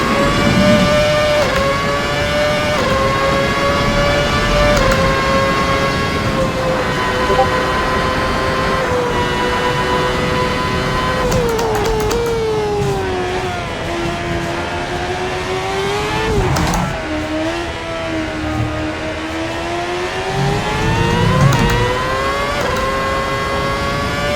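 A championship-winning race car screams through a timed lap, its engine note climbing through the gears with sharp pitch drops at each shift, loud and close for the whole run with no talk.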